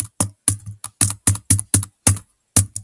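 Computer keyboard keys tapped in short separate bursts, about ten distinct presses over a few seconds with brief pauses, close and clear with no talking, as arrow keys are used to move a character in Animal Jam.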